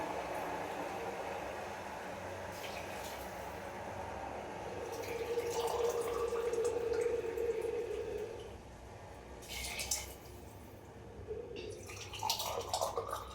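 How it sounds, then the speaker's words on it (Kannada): Water is poured onto rice in a pot for cooking, a faint, quiet trickle that swells briefly in the middle and then fades amid soft kitchen clatter. "ಇವಾಗ 1 ಗ್ಲಾಸ್ ಅಕ್ಕಿಗೆ 2 ಗ್ಲಾಸ್ ಅಂತೆ ನೀರು ಹಾಕ್ಕೊತೀನಿ"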